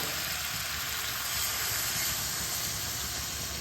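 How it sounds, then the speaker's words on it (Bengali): Water hits a hot pan of frying chana dal with taro, giving a loud, steady, bright sizzling hiss with a low bubbling rumble underneath, continuous and close with no talking. "এবার আমি দিয়ে দেবো জল।"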